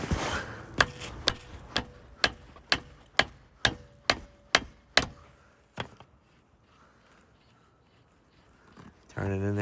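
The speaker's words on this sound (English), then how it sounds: "take my hammer." Eleven sharp metallic hammer strikes on a bolt during a transmission swap on a VW Jetta MK6 land at an even pace, then stop, leaving a quiet room with faint shuffling.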